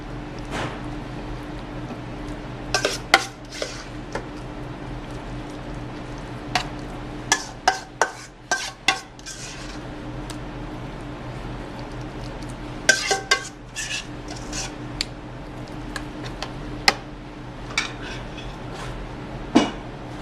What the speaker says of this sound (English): we're going to put the rest of our ricotta in here.